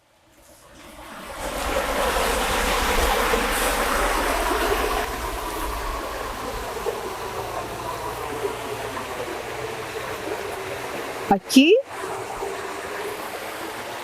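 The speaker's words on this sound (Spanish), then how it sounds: "Aquí vamos llegando a las tomas de agua para regadío" Water rushes steadily at irrigation intakes on the Huasco river, a broad continuous roar heard up close with some wind across the microphone. Someone speaks briefly over it near the end.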